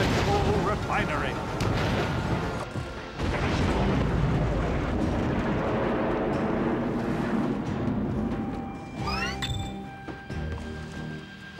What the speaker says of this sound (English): Throw the bomb into the smoke belcher. Destroy the troll refinery.